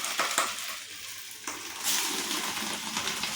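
Rohu fish wrapped in banana leaf fries slowly in a pan, giving a steady soft sizzle with a few faint clinks and scrapes throughout.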